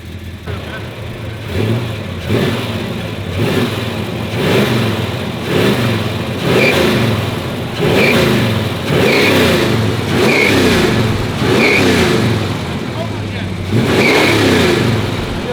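A 1986 Ford F250 pickup with a Super Cobra Jet V8 revs repeatedly, about ten rising and falling bursts in steady rhythm, loud and close, with voices and shop noise underneath.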